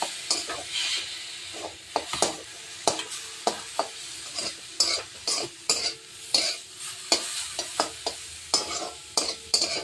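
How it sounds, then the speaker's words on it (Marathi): Vegetables stir-fry in a pan with dark soy sauce for veg hakka noodles. A steady sizzle runs under rhythmic, repeated spatula scrapes and clinks, with no talking. "मिक्स करून असं व्यवस्थित फ्राय करायचं आहे पुन्हा व्हेजिटेबल्स"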